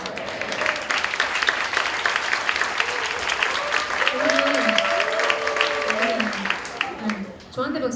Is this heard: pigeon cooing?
no